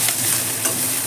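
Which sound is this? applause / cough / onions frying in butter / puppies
onions frying in butter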